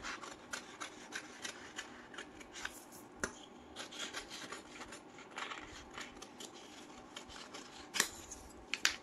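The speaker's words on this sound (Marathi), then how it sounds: "आता आपण करणार आहोत समोरच्या बाजूची पेपर कटिंग." Scissors snipping through a paper pattern for a katori blouse front, a steady run of close, dry rasping cuts with small clicks, no voices.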